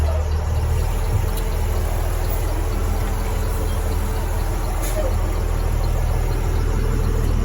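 A Cummins diesel engine in a Blue Bird school bus runs on a first test drive at walking pace, a loud, steady low rumble and drone heard from inside the cabin with no let-up.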